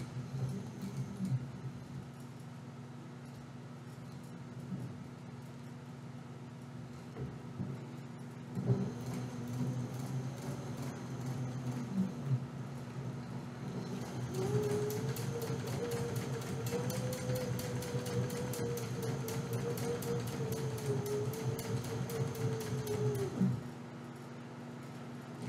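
Sewing machine running short back-stitch bursts on a curved backpack seam: brief whirring runs early on, then a steady mechanical hum with a faint rising tone through the middle before stopping, no talking.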